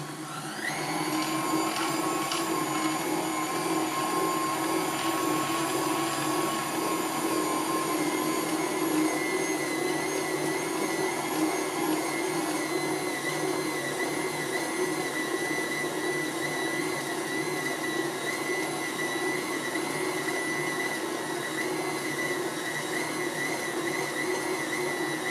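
A KitchenAid stand mixer runs with its slicer/shredder attachment shredding a block of cheddar cheese, giving a steady loud motor whine and hum with a faint whirring grind. It holds for the full length with no talk.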